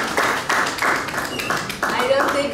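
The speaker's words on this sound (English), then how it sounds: "Let's give her a round of applause as she comes up" An audience at an investment conference in Ghana claps as a speaker comes up. The applause is moderately loud and runs through the clip, rising and falling in uneven bursts.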